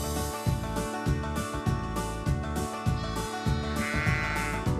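Lamb bleating on a sheep farm in Auburn, California, a loud, close series of repeated quavering bleats in a steady rhythm, with no talking over it.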